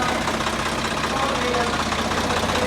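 A tractor engine idles close by, a loud, continuous, even rumble with a rapid knocking pulse that holds steady throughout.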